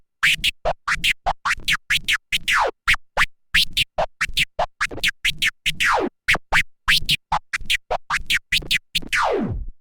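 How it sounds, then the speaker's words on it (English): A DJ scratches a record on a turntable in a combo of chirps and crossfader transforms, with rapid choppy bursts and sweeping pitch glides repeating in a tight rhythm, loud and close with no talking. "I start with an open crossfader and I do a chirp and then 2 transforms back"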